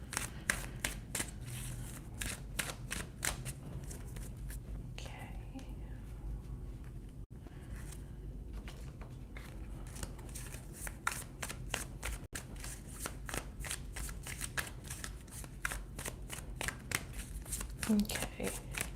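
Repeated crisp riffling bursts of tarot cards being shuffled, close by, coming in quick rhythmic waves with brief pauses, over a low steady background hum.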